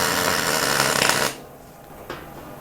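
A MIG welder runs solid-core wire with no shielding gas, making a loud, harsh crackling buzz full of spatter for just over a second before it cuts off sharply, followed by a brief faint crackle.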